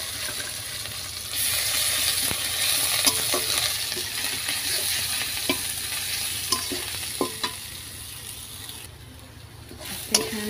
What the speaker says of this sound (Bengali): তো আমি তেলের মধ্যে দিয়ে দিব পরিমাণ মতো জিরে।